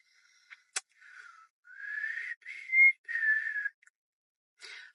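A person whistles to imitate a mysterious sound heard alone in a locked house, giving a few short clear whistled notes, then sustained sliding tones, close and fairly loud in a quiet room.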